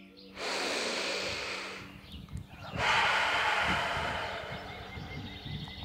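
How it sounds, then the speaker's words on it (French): Slow, deep breathing during a yoga session, two long airy breaths close to the microphone, each lasting a couple of seconds with a brief pause between. "Encore 3 respirations."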